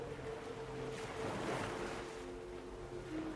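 Ocean waves wash in and out along a shore, a steady broad surf rush swelling slightly at mid-point, moderate and continuous with wind, no voices.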